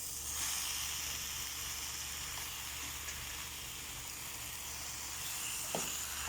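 Chicken pieces hiss and sizzle steadily in a hot pan of tomato-based kurma, a continuous close frying sound with faint clinks and no talk.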